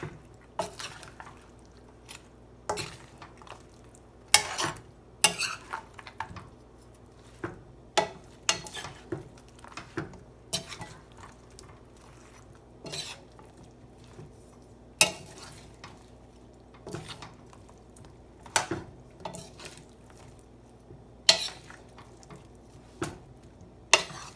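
General Tso's tofu is stirred in a wok, giving repeated scraping clacks and wet squishing sounds at an uneven pace over a low background hum, close and clear with no talking.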